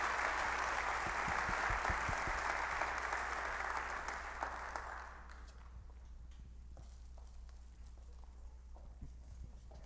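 An audience at a university wind ensemble concert applauds the young players, dense clapping that fills the hall for several seconds before thinning out into scattered claps and room noise.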